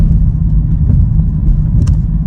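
A 2022 Chevrolet Camaro ZL1 in track mode gives a loud, steady low engine and exhaust rumble heard from inside the car on a test drive, with no talking.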